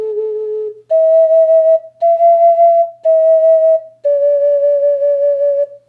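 An ocarina plays a short melodic phrase: five clear, pure sustained notes, one low followed by four higher ones, evenly spaced, close and loud with no talking.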